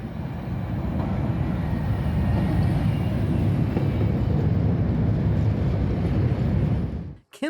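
A CTA Brown Line train on the Ravenswood Branch pulls away after its doors close, giving a steady, loud low rumble and rail noise throughout that ends abruptly, with no talk.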